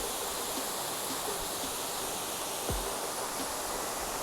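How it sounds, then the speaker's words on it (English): Senju Falls, a waterfall on a hiking trail in Japan, pours as a loud, steady, broadband rush heard close and alone, with faint scattered knocks beneath. "We've arrived at Senju Falls."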